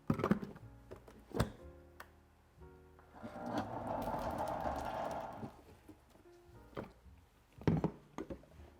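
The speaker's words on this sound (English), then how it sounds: "Now we're just gonna blend this up really well until it's super creamy." A blender runs a plant-based cheese sauce with white wine vinegar, giving a faint, steady whirring burst of a few seconds in the middle, framed by quiet clunks and knocks before and after.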